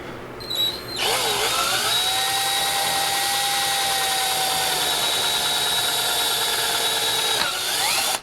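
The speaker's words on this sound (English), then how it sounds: "drill a hole here" A cordless drill with a 3/16-inch bit whines up and runs steadily for several seconds while drilling a hole in a fender, then winds down, loud and close.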